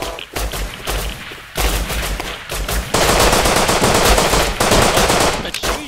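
Automatic gunfire in the survival video game Rust during an airdrop raid, loud rapid bursts of shots that come in long volleys and briefly pause, then a dense sustained stretch of firing.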